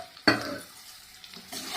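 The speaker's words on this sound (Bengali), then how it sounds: "এবার চাল কুমড়োগুলোকে ভালো করে ভাজতে হবে 4 থেকে 5 মিনিট ধরে।" Ash gourd pieces fry in mustard-style cooking over medium flame in a pan, a spatula scraping sharply once then soft sizzling continuing, with a second stir near the end; no voices.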